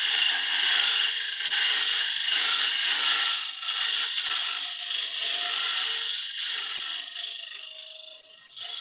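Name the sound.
teardrop cutter scraping wood on a lathe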